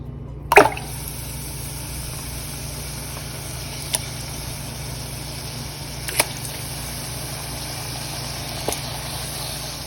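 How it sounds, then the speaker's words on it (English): Chicken wings drop into hot oil to deep-fry. A sharp splash starts a steady, even sizzle and hiss, with a low hum underneath and a few faint pops spaced out across it. "Once oil is hot, add chicken wings."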